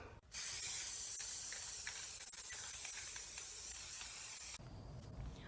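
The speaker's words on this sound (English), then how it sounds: "it's time to spray" An aerosol spray paint can applying chalk paint, a steady close hiss lasting several seconds before a brief break and a slightly quieter continued spray, with no talking.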